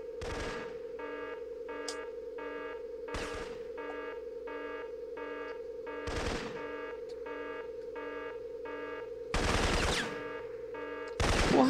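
Gunfire in the video game Syphon Filter comes as several sharp bursts at irregular intervals. They sit over a steady electronic hum and tonal background music, with the last shots louder and closer together.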